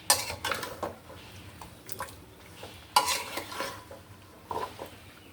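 Beef browning in a pot, with a spoon scraping and clanking against the metal in irregular strokes over a faint sizzle, close by and without talk.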